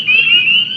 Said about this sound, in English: that peeping sound is the peep of the spring peeper